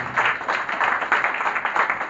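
A church congregation clapping for the Lord during worship, with rhythmic bursts of many hands beating in a regular pulse at moderate loudness and no clear talking over it.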